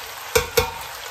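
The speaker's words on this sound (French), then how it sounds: "Donc on va mélanger délicatement pour ne pas défaire la tête d'ail." Chicken and mushrooms with a whole head of garlic are stirred in a hot pan, a steady close sizzle broken by two quick utensil scrapes.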